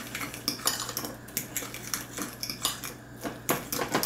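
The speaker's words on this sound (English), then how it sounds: "And you just stir it up" A spoon stirs mayonnaise into deviled egg filling in a bowl, giving steady clinking and scraping against the dish in a repeating rhythm, close and moderately quiet with no talking.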